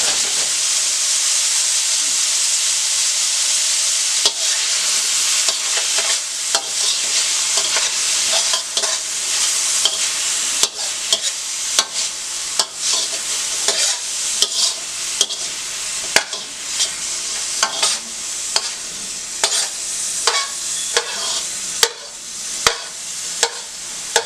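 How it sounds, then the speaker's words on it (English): Vegetables stir-frying in a pan for chicken fried rice give a steady, loud sizzle with repeated scraping clicks from stirring, close by and without talk. "Just gonna go ahead and throw my vegetables in there."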